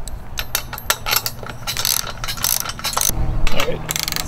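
A ratchet turning a 9/16 deep socket on a bolt of a truck bed kayak rack, heard as a rapid series of close clicking bursts in short uneven runs, with some faint background noise.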